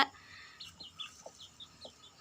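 A hen clucks softly in short, separated calls spaced through a quiet moment, close to the microphone with no talk over it.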